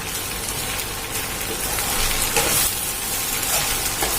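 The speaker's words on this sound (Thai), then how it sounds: "เราผัดสักพักหนึ่งนะคะ" Kimchi fried rice sizzles steadily in a hot pan, a dense crackling hiss with soft stirring scrapes, close and unbroken for a few seconds.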